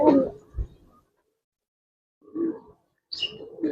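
A pair of large, same-sized flying Giribaz and racer pigeons give brief, soft, close coos, in short bursts separated by silence.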